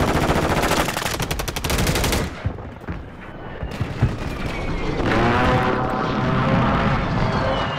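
Sniper and machine gun fire in an online shooter game, loud rapid automatic bursts up front giving way to scattered single shots, rumbling blasts and a noisy battlefield din.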